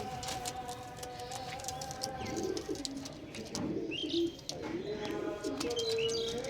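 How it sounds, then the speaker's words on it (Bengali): Large breeder pigeons cooing in a loft, with low throaty coos and chirps overlapping through a busy, close-up flock ambience. "এগুলো বড় বড় ব্রিডার পায়রা"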